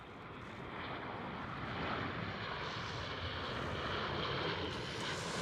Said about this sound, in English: That is a proper Ryanair landing.